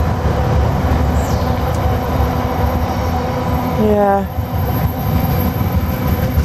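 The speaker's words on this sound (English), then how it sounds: "Seem to be getting big trains every morning now." Big train passing near a morning walking route, a loud sustained rumble of rolling wagons with a brief squeal of wheels partway through; a person says a single word near the start.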